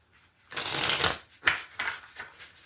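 Tarot cards are riffle-shuffled close up in a few quick bursts: a long whirring riffle followed by shorter flutters and soft taps, with no talk.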